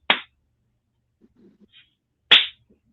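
Two sharp hand claps swatting at mosquitoes, one at the start and one near the end, loud and close, with faint scattered rustles between them.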